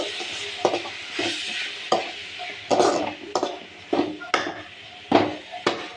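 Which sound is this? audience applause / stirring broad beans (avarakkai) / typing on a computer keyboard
stirring broad beans (avarakkai)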